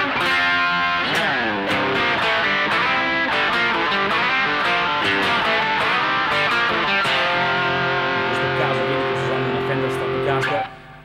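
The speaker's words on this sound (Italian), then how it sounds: "un taxi driver, un fuzz giallo" Electric guitar played through a yellow Taxi Driver fuzz pedal, strung with 011-gauge strings, giving a thick distorted riff of sustained chords and picked notes that rings continuously for about eleven seconds before cutting off.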